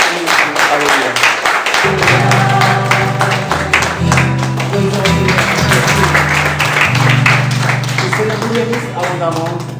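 A church congregation claps in praise during a French-language worship service, a dense sustained round of applause with music or singing underneath, loud and continuous throughout.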